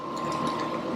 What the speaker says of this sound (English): Use this little wrench, or if you don't have this little wrench, use a little pair of needle nose pliers.